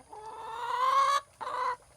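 Laying hens on a pasture farm cluck in two close, loud bursts, a longer run of nasal calls followed by a short pause and a second burst, with no talk over them.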